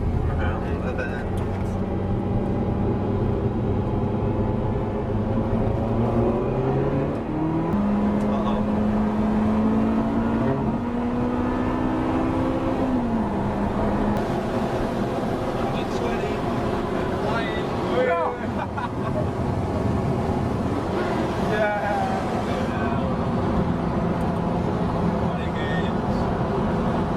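A Ferrari F355 drives along a road, its engine droning close inside the cabin and rising in pitch as it picks up speed, with a person talking over the engine.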